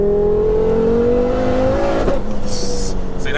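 A 689bhp front-wheel-drive Ford Focus RS revs hard, its engine tone rising steadily as the turbo spools up, loud and close from inside the car, ending in a brief hiss and a whoosh.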